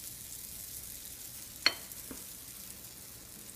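Batter cooks in a 1901 Griswold cast iron waffle maker with a faint, steady sizzling hiss, broken once by a brief metallic clink.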